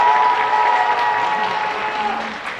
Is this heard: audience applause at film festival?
yes